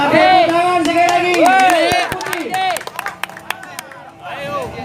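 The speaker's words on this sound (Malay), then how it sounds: "Tepuk tangan sekali lagi" Spectators at a sepak raga tournament final clap in scattered, sharp bursts amid lively crowd chatter and shouting voices, the claps growing sparser and more isolated toward the end.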